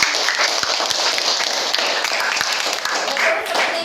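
Classroom applause from students at a teacher's request during a lesson, a brisk patter of many hands clapping with sharp individual claps standing out, fairly loud, with some background chatter mixed in.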